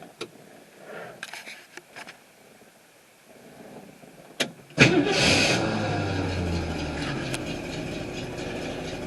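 A 1968 Ford Mustang engine cold-starting: quiet clicks and faint rustling, then the engine catches abruptly and settles into a steady, loud idle with a rough low rumble.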